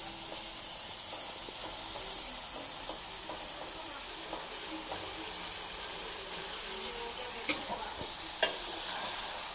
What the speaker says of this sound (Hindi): फिर हम सब्जी डालेंगे इसमें।